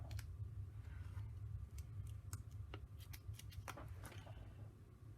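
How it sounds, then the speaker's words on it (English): Scissors snip a small piece off a mini foam dimensional for a Christmas cottage wreath, a series of quiet crisp clicks and cuts close by, irregularly spaced over a low steady hum. "So I'll just come in here and I'll just cut me off a piece."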